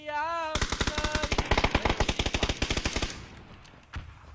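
Rapid automatic gunfire in PUBG on the Vikendi map, a long burst of about twenty evenly spaced loud shots that stops abruptly, followed by a faint single report.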